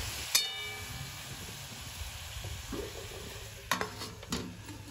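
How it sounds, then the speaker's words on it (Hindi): Ridge gourd (satputiya) vegetable cooking with salt and turmeric in a pan over low heat, stirred with a utensil; a steady soft sizzle and hiss runs throughout, with a few sharp scrapes and clinks of stirring, close and without talk. "सब्जी को बीच बीच में चलाते रहेंगे।"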